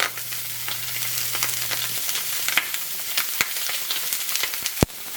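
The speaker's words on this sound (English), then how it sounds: "And we place them carefully, skin down, into the hot pan." Duck breasts laid skin down in a hot pan sizzle and fry steadily, a close, crackling hiss with scattered pops and no voices.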